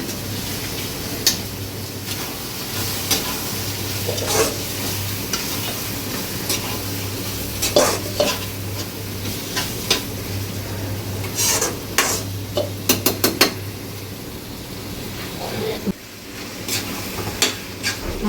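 Onions sautéing in a pan for crab curry: a low, steady sizzle with a background hum, broken by intermittent scraping and clicking from stirring, including a quick burst of taps near the end.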